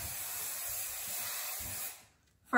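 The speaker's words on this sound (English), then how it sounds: "by spraying this on your hair, it has a light hold to it" Chi Keratin Flex Finish hairspray is sprayed onto hair in one continuous close hiss lasting nearly two seconds, then stops abruptly into near silence before a brief sharp sound.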